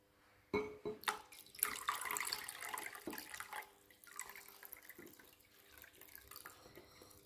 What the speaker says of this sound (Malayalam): ഇതിലേക്ക് ആവശ്യത്തിനുള്ള വെള്ളം ഒഴിച്ചു കൊടുക്കണം